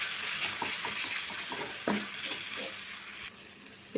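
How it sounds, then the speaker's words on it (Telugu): Ginger and shallot paste fries in a pan with a steady soft sizzle, broken by light stirring scrapes and one brief clatter near the end. "ఇది కొంచెం పచ్చివాసన పోయేలా ఫ్రై చేసుకుందాం."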